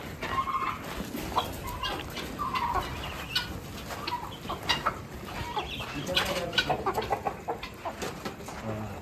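Chickens cluck on a farm amid a busy mix of bird calls, close and fairly steady throughout, with no talking.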